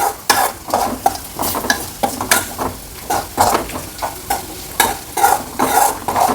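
Chopped coconut pieces roasting in a pan, a spatula stirring and scraping them in quick, repeated strokes over a steady close sizzle, with no voices.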